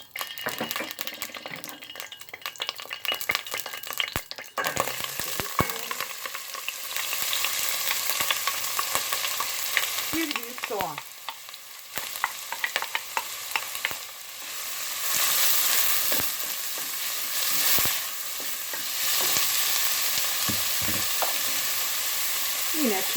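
Steady sizzling and crackling of onions frying in hot oil in a pot, with occasional stirring clinks and scrapes, close up and continuous.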